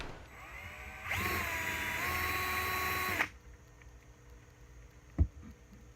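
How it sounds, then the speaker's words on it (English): A power drill whirs up and bores into a plastic bucket for about two seconds with a grinding bite, then stops, followed by a single sharp knock. "I've got to drill a hole in my bucket"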